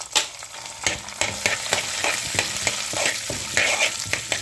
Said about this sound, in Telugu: ఇవి కూడా బాగా వేగిపోవాలి.